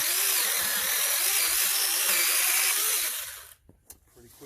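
A 6-inch mini chainsaw cuts through a roughly 1.5-inch piece of maple, a loud continuous high-pitched buzzing whine lasting about three and a half seconds before abruptly stopping, followed by quiet clicks and handling.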